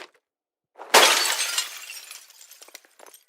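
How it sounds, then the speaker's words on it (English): A pane of glass shatters loudly in the zombie survival game Project Zomboid, with a sharp crash followed by scattered tinkling shards that fade over about two seconds. "The glass breaking sound's also been made louder"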